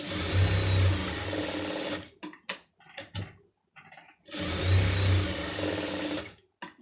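A sewing machine runs in two sustained bursts while stitching a dart in fabric, with a choppy stretch of short stop-start stitching and pauses in between.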